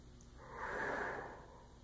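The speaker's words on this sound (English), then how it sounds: "really good deep breath in, and then out." A single deep breath drawn in and let back out before playing the tuba, a soft airy rush that swells and fades over about a second, close to the microphone.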